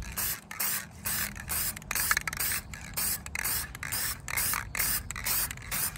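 A spray gun lays a second coat of paint on a 1957 Chevy in about seven close hissing bursts, each roughly half a second long and split by short pauses.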